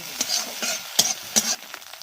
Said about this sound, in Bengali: এবারে ডিমগুলো ঝুড়ো করে দেবো আমি